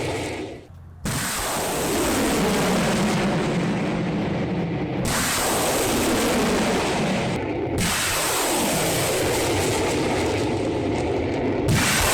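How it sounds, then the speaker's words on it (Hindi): A BM-30 Smerch rocket launcher fires in a heavy attack, giving loud roaring, hissing blasts in several long bursts separated by brief gaps, with no voices. "रूस ने अटैक के लिए BM-30 स्मर्च का किया इस्तेमाल। भीषण रॉकेट अटैक का वीडियो आया सामने।"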